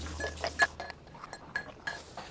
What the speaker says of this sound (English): Now we're going to add ice and stir.